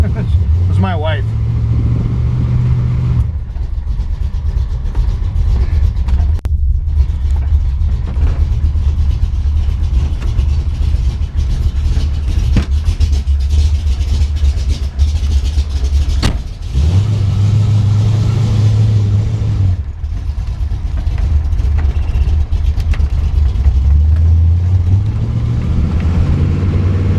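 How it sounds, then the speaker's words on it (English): A brand-new, cold 412 cubic-inch stroker V8 in a 1971 Ford Mustang Mach 1 with an automatic runs steadily and loudly up close, holding a deep idle with a few light revs rising and falling. "This engine's brand new and it's cold, so we're not going to run it really hard right now"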